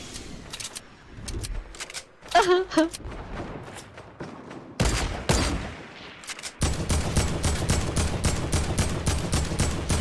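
Shotgun and gunfire in a video game: sharp bursts of shots, then a dense rapid run of blasts near the end, loud and close, with someone talking and exclaiming over the shooting.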